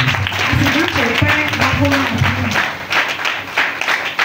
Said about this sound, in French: Est-ce que vous pouvez acclamer très fort?